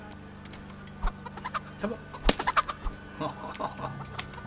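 Chickens cluck in the medieval world of Kingdom Come: Deliverance, a scatter of short, moderately close clucks over low background game ambience, with a brief spoken word at the start.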